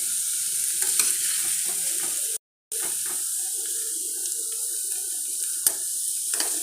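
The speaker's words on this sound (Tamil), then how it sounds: "எல்லாத்தையும் எடுத்து போட்டு நல்லா கலக்கிட்டுக்கலாம்." Sautéed onions with curry leaves being stirred into pearl millet batter, a soft continuous wet mixing and squelching close by, with a brief dropout midway and a faint clink.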